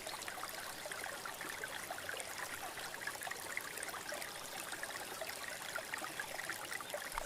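A river stream flows steadily throughout, a continuous broadband rush and babble of water that stays even and close, with no voices.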